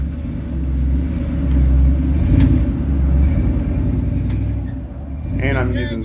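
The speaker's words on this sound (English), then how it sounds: "I'm just trying to let my truck softly engage into full drive" Low, steady engine rumble of a pickup truck idling and shifting into four-wheel drive, close and continuous for several seconds, with a voice talking briefly near the end.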